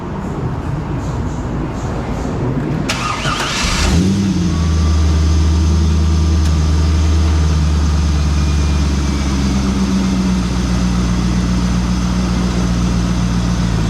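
A 1999 Corvette engine cranks and catches after rear main seal repair work, a short burst of starter noise followed by a steady, deep idle that holds evenly to the end.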